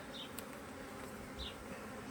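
Honeybees buzz around a hive opened for an early spring inspection in swarming season, a soft, continuous drone with a couple of individual bees passing close by, fairly faint and with no talking.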